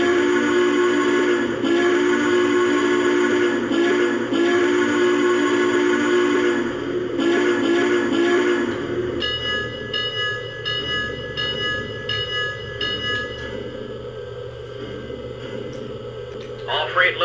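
A Lionel 675 Prairie O gauge model freight train set runs with a steady electric hum. Bursts of sustained whistle-like tones sound at first, then shorter repeated tones, and the sound stays loud and continuous throughout.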